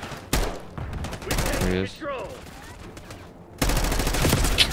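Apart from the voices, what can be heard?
gunfire in the video game Black Ops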